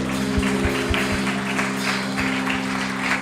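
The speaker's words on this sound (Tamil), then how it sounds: "நல்ல கைத்தட்டுங்க இந்த வார்த்தைக்கு" A church congregation claps together in a steady, dense round of applause over a sustained low hum, with a few sharper individual claps standing out.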